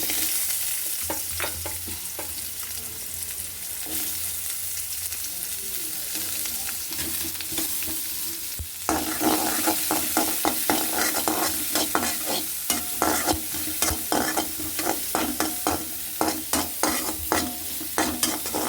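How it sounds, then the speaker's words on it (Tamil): Sliced onions go into oil with whole spices such as bay leaf, cinnamon and star anise for an egg curry. The sizzle swells after a quiet start, and close, rhythmic stirring scrapes run throughout with no talk. "அது கொஞ்சம் கலர் மாறவுமே நம்ம அதில் வெங்காயத்தை போடணும்"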